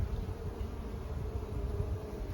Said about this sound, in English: Good frame full of bees.